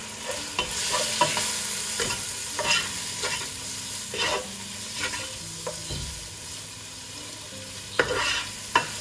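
Ground black pepper and spices stirred into a frying pot for a lentil and chicken soup, with a utensil scraping and clinking against the pot in irregular strokes over a steady low sizzle, close and alone without voices.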